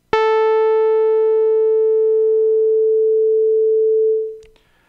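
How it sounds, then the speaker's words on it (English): A synthesized tone with both frequency ratios set to 1 starts as a bright, buzzy sawtooth, then its overtones steadily die away, leaving a pure sine-like hum. It holds loud and steady for about four seconds, then fades out, ending with a faint click. "So this is the initial sawtooth type sound that starts bright and then"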